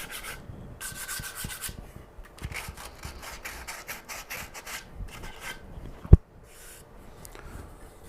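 Hand sanding of a small wooden cutting board with sandpaper: rhythmic rasping strokes, steady and close, broken by pauses and one sharp knock, with no voices.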